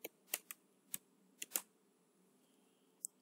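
Sharp, isolated keystrokes on a computer keyboard while an address is typed into a LibreOffice Writer form label, about seven quiet clicks in an irregular rhythm with short pauses, close and alone without talk.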